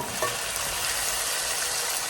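Chicken pieces fry in hot oil, giving a steady, dense sizzle with no pauses, close and fairly loud throughout.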